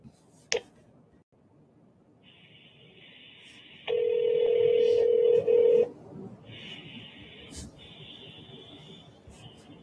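A phone call is placed: a click and short keypad tones come first, then a ringback tone sounds in steady bursts over a faint background hum, with a brief click between rings.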